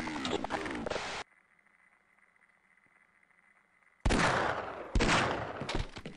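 Gunfire in Half-Life: Decay: a burst of rapid loud shots, a lull of near silence, then more heavy bursts of firing, with no talk heard.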